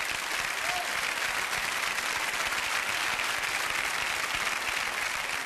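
Sustained applause from a television game show studio audience, a dense, even wash of many hands clapping that holds steady throughout at moderate volume.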